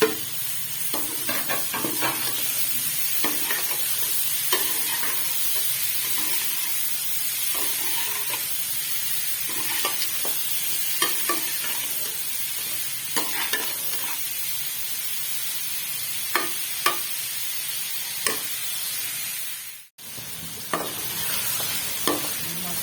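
Tomato and capsicum sizzle and fry in a pan of spicy masala pasta, with steady hissing and frequent scraping stir strokes throughout, plus a brief drop to near silence shortly before the end.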